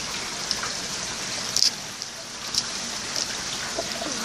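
Rain falls on a rainy day as a soft, steady hiss of drops, with a few sharper splashes and drips standing out faintly now and then.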